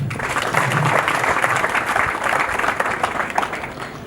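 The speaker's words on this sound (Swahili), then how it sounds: "Naomba tumpigie makofi" An audience applauds at a ceremony honouring visiting Tanzanian doctors in Burundi: dense, sustained clapping from a large crowd, loud and close, with a faint murmur of voices underneath.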